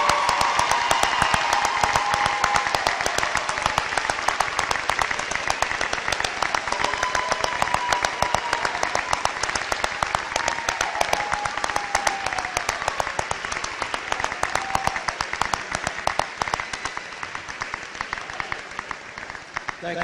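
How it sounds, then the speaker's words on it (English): Graduation audience at the 2015 North Central Missouri College commencement giving the graduating class a loud, continuous round of applause, dense clapping filling the whole stretch without letup. "Can we give one more round of applause for the class of"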